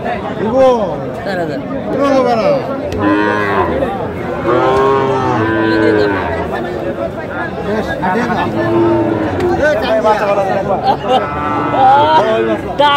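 Sahiwal bulls and cattle at a busy livestock market in Aftabganj, repeated loud mooing and bellowing calls from several animals close by, overlapping with crowd chatter and bargaining voices throughout.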